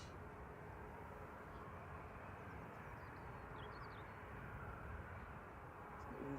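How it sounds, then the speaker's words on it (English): A TUI Boeing 737-800 passes over Manchester Airport as a faint, distant, steady broadband jet rumble, low in level and unchanging across the whole stretch. "Yeah, Tui heading over to COS, 737-800, flight 2370"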